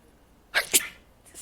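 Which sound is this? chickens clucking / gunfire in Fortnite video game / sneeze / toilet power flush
sneeze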